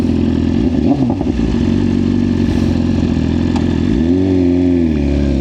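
A single motorcycle rides along a road with its engine droning loud and steady throughout, engine tone shifting and rising near the end as if revving, with no talk.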